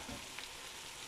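Minced meat sautés in a pan with onions for a homemade lasagne, giving a soft, steady, broadband sizzle that stays even and fairly quiet throughout with no talk.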